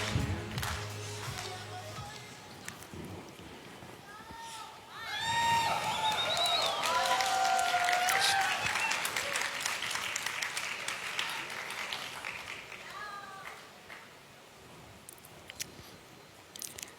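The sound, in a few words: audience applause welcoming a speaker on stage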